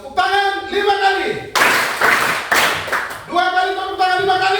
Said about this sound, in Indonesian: Tepuk tangan 5 kali.